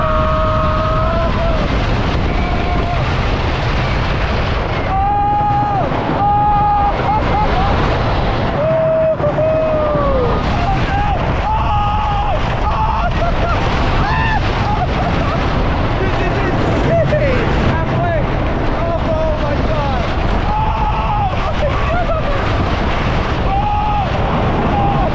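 Shivering Timbers, a wooden roller coaster at Michigan's Adventure in Muskegon, Michigan, heard from a rider's seat as a loud, continuous roaring rumble of wheels on track mixed with heavy wind buffeting, with occasional rising whines and voices faintly under the din.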